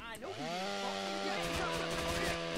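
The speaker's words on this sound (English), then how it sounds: "I did manage to kill someone with a chainsaw." A chainsaw in the video game GTA San Andreas, a revving, harmonic motor whine whose pitch climbs and wavers, loud and continuous throughout with faint game noise around it.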